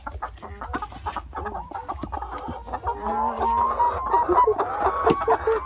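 Laying hens cluck and chatter close by in a backyard coop, a busy overlapping flock of short repeated calls with some louder squawks, rising in intensity toward the end, with no talking.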